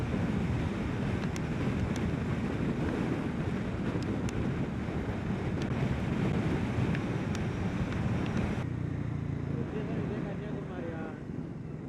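Steady roar of wind and surf at the seashore in Kanniyakumari, where the Bay of Bengal, Arabian Sea and Indian Ocean meet, continuous and loud throughout, easing slightly near the end.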